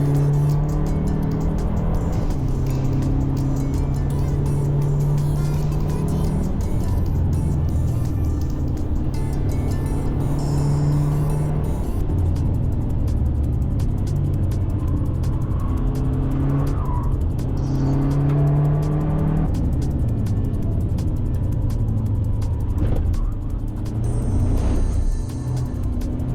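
A track car on Yokohama tyres pulls away and accelerates around a race circuit, its engine a steady, loud drone with shifting pitch and occasional tyre noise, continuous throughout with no talk.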